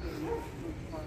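At a crowded dog market selling huskies and other breeds, a dog gives one short bark that is over almost at once, heard close amid the general crowd noise.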